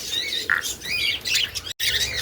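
Small birds in a breeding nest box give harsh, rapid squawks and chirps close by, in a busy overlapping chatter that breaks off for a brief instant before resuming.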